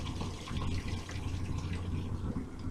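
Boiling-hot pasta water poured from a pot into a kitchen sink, a steady, fairly quiet gushing splash with no talking.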